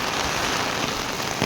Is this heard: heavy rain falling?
yes